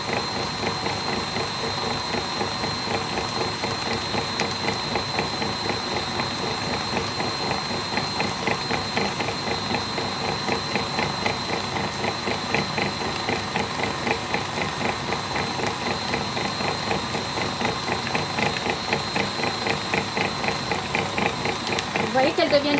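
An electric mixer running at a fairly high speed whips American buttercream, giving a steady, dense whirring hum that does not change for the whole stretch.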